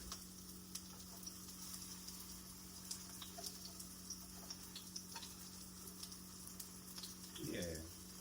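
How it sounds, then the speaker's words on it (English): Plant-based crab cakes made with lion's mane mushroom sizzle and crackle steadily in a hot pan, a constant frying hiss with small pops and a brief scrape of stirring near the end. "You can hear it sizzling"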